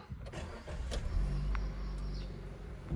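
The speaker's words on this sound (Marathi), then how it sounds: "आता काहीच पहिली गाडी कोल्ड स्टार्ट करूया" A CNG-fitted car is cold started at night: a short cranking whir catches into a low, rough idle that settles and holds steady, close and fairly loud.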